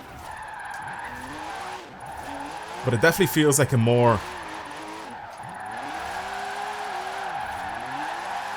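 Drift-tuned budget classic supercar sliding sideways in Forza Horizon 4, engine droning steadily with a burst of tire squeal in the middle, while someone talks over the car sound.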